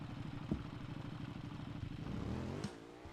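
Motorcycle engine idling nearby with a steady rapid low putter, a brief clank, then a short rev that rises in pitch before settling back, heard alone.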